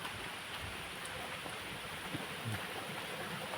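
Rain falls steadily outdoors on a hillside walk, a constant dense hiss of drops with a few closer patters and splashes standing out near the end, and no voices over it.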